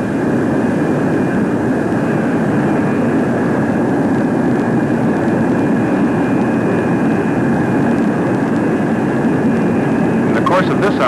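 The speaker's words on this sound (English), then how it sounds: "Now let's watch the high-speed taxi run." A USAF F-102 jet aircraft on a high-speed ground taxi run gives a steady, loud, broadband engine roar with a whining tone throughout, under a narrating voice.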